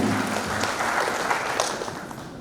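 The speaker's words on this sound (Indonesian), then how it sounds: "berikan tepuk tangan yang meriah" An audience at a new cadet inauguration ceremony at an Indonesian maritime polytechnic applauds after a performance, a brief burst of clapping that starts fairly full and fades away over a couple of seconds.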